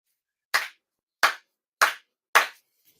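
Four deliberate, evenly spaced hand claps at a Shinto year-end purification ceremony, each sharp and distinct, ringing out one by one against complete silence.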